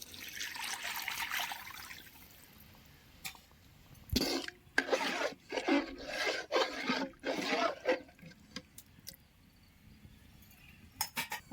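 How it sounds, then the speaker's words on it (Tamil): Tamarind water poured into a masala for a stingray fish curry, bursts of splashing and trickling liquid in short pulses after a quieter start, close and fairly loud. "புளி கரைசலை மசாலையோடு சேர்த்துக்கலாம்"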